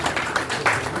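Audience at a Hindi book launch event for 'Mizaj-e-Balwant' claps briefly for Supreet Singh, a short burst of scattered hand claps in a hall with some background voices.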